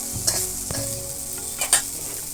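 Potatoes and beans being stirred in a frying pan over a steady sizzle, with a few scraping strokes of the spatula against the pan, close up and with no voices.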